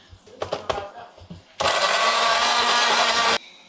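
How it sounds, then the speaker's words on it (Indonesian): A blender loudly whirs through a chili spice paste with salt and oil, a steady roar lasting nearly two seconds before cutting off, preceded by a few clattering knocks and handling sounds. "Lalu kita blender."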